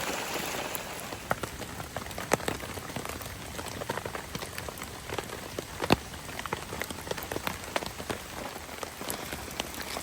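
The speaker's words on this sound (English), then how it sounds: "It's been about 3 hours of rain now." Steady rain falls on a backpacking tent, a dense continuous patter of drops with occasional sharper louder hits, close and unbroken, with no voices.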